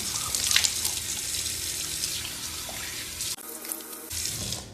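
Water from a sink tap runs steadily as someone rinses their face, a close broadband splash that stops briefly near the end before flowing again.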